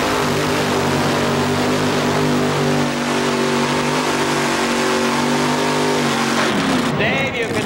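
Supercharged alcohol-burning mini drag car at a 1987 Syracuse drag race, a loud sustained engine roar with steady harmonic drone through the launch and run, shifting pitch near the end, with announcer-style talk over it.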